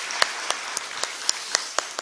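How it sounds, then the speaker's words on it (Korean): A church congregation claps together in rhythm during a Sunday worship service, with sharp, evenly spaced beats over a brief steady wash of applause. "박수 한번 할까요?"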